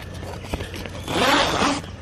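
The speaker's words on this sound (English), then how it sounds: "Inside, they've got like plastic zippers" Plastic zippers on a polyester Tragopan Monal photography blind are pulled in a close, rasping run that swells in the middle and then fades, with faint scraping of fabric around it.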